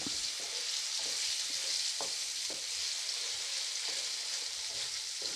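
Liver frying in a pan gives a steady, even sizzle throughout, with light periodic scrapes and taps of a stirring utensil at a moderate distance; no voices.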